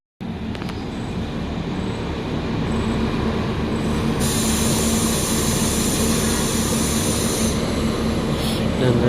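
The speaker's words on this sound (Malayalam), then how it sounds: "ട്രെയിൻ വരുമെന്ന് പറഞ്ഞ നിലമ്പൂർ എക്സ്പ്രസ്." The Nilambur Express rolls into a station with a loud, sustained rumble of wheels and carriages, thin high squeals and tonal hums riding over the steady roar as it approaches.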